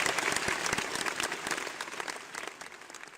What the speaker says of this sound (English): let's give these boys a round of applause before the competition begins